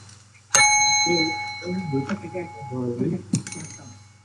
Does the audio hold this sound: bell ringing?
yes